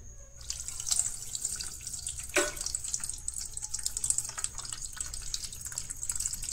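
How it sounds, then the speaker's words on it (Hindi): Water pours steadily off soaked rice as it is drained in a kitchen for anarsa, a continuous close splashing and trickling stream with a few drips, and no one speaking. "तो इनका हम पानी निकाल देते हैं।"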